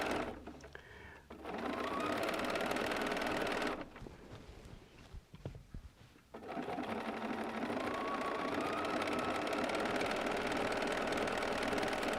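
A sewing machine stitching appliqué on a modern art quilt runs in two steady, fast, close whirring bursts, pausing in between while a person talks quietly, then resuming a long continuous run.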